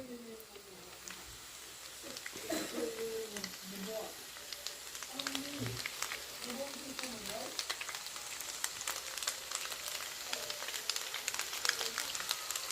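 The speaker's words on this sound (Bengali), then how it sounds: "এইভাবে করে ফ্রাই করে নিব অলিভ অয়েল এবং রসুনের সাথে" Pasta frying in olive oil with garlic gives a steady sizzle and crackle that grows louder, with stirring clicks, while a person talks over it at the start.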